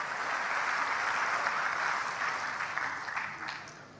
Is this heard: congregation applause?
yes